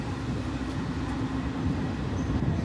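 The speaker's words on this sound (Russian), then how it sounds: "Вот и поезд какой-то стоит уже, ждет." A train stands at the platform of the Zaslonov Children's Railway, giving a low, steady idling hum and rumble that runs quietly and continuously throughout, with no speech.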